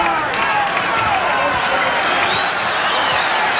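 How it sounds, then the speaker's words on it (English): Basketball arena crowd at the Palace during an NBA Bulls–Pistons game, a broad roaring wash of fans building noise at the start of the third quarter, continuous and loud with a whistle-like tone rising through it. "the crowd in the Palace somewhat quiet starting the third, starting to make some noise"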